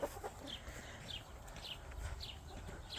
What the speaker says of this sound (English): the chickens will knock the bucket over and finish for her